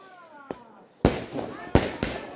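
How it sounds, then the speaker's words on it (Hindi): Diwali rocket firework set off during a family celebration: a quick pop followed by two loud, sharp bursts and a smaller crackle, close by, with faint voices and a whistle-like tone early on. "देख सकते हैं रॉकेट थोड़ी ही देर में ऊंचाई छूने वाला"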